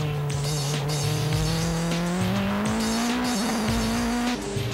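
Super GT race cars, the ARTA Garaiya and the Esso Supra, roar loud and close at high revs. Engine pitch climbs steadily through a gear, then shifts, with tyre noise underneath.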